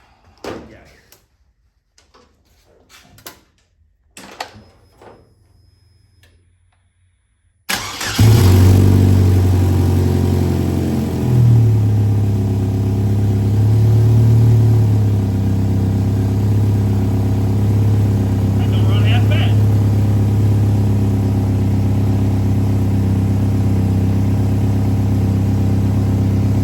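A car running its stock tune cranks after a few quiet seconds of small knocks and a door, catches, and settles into a steady, loud idle that holds to the end.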